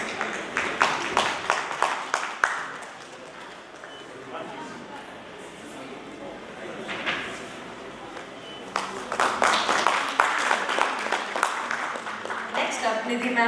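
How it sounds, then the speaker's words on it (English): Audience applause for conference panelists at an education leadership summit, heard as two stretches of clapping, at the start and again near the end, with steadier crowd noise and talk in between. "Can you please have a huge round of applause for all the panelists?"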